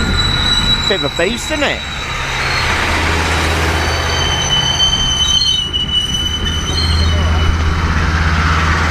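A long passenger train at Creel station in Copper Canyon, Mexico, rumbles past close by with squealing wheels and a low heavy drone, while a person speaks briefly over it.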